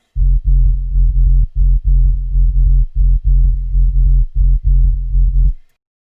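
Deep, filtered Reese sub bass synth rumbles in choppy, pumping bursts, repeating steadily with brief gaps, dark and muffled with no high end, from a tech-step drum and bass Massive preset.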